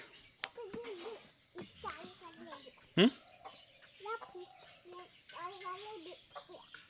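A hen and her chicks cluck and cheep in an uneven stream of close calls, with a sharp louder squawk midway and a person talking at times alongside.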